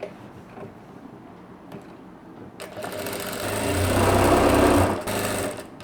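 A sewing machine stitches the hem of a saree blouse, starting with a few quiet handling sounds before the motor spins up into a steady close whir with a rapid needle rattle, then briefly slows and runs on.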